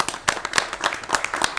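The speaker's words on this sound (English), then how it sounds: "So they do deserve a round of applause" Clapping at a county commission meeting, a short burst of a few hands clapping close by in a loose, uneven rhythm.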